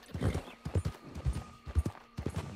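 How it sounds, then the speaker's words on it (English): Horse hooves clip-clop in a quick, uneven rhythm in the video game Red Dead Redemption 2, soft and fairly close, with no talk over them. "All right, chill out, horse."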